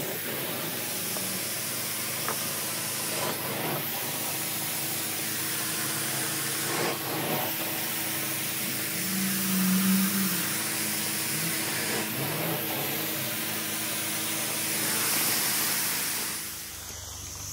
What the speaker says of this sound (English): steaming it out now